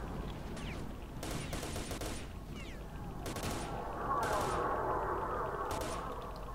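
Gunfire from S.T.A.L.K.E.R. Shadow of Chernobyl, with several loud broadband bursts of shots spaced irregularly over steady background game ambience.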